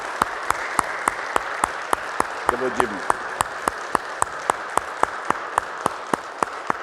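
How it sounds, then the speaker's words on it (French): A church congregation claps in a steady, even unison rhythm, with sharp evenly spaced beats throughout and a voice speaking briefly partway through. "Applaudissons notre ami qui entre dans notre église, Jim."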